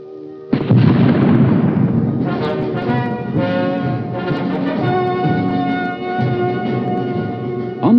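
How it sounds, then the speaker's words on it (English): A loud cannon salute booms and rumbles on, followed by booming reports and a long ringing echo under swelling music. "The cannons of Kronberg in Elsinore and Schönen in Sweden saluted them."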